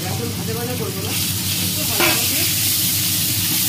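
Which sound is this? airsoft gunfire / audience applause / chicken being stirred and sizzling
chicken being stirred and sizzling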